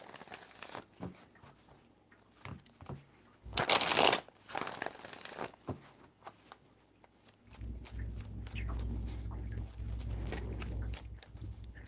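Tarot cards are shuffled by hand in a few irregular bursts of flicking and riffling, one loud flurry near the middle, followed by a steady low rumbling rustle toward the end; no speech.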